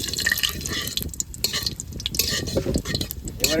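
Two desi bay leaves and whole spices dropped into hot oil, giving a close, loud crackling sizzle with bursts of spitting and stirring scrapes throughout.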